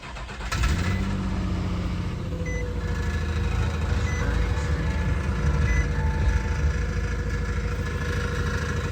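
A 2007 Nissan Xterra engine, brought in with a check engine light and a P0300 misfire, starts up and idles rough and uneven, with a steady rattle from underneath running loud and close throughout.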